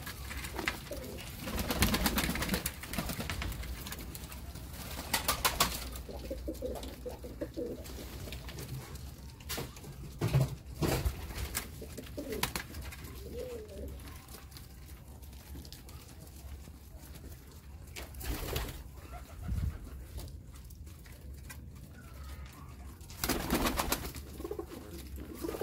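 Pigeons and other pet birds coo in soft, repeated calls, close by, with scattered rustles and knocks around them and occasional muffled human sounds.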